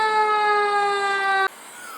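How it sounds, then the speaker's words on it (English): A fire truck siren sounds loud and close, a steady wailing tone with rich harmonics for about a second and a half before cutting off sharply, leaving faint traffic noise. "A fire truck just went by with the sirens."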